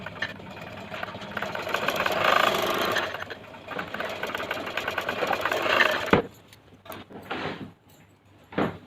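Sewing machine running steadily while stitching a heavy patiala salwar, a continuous mechanical whir for about six seconds that cuts off abruptly, followed by softer fabric handling noises.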